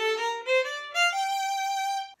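Violin playing a short phrase in a dotted eighth–sixteenth rhythm, a fast passage practised slowly, with a few bright sustained notes played alone and close.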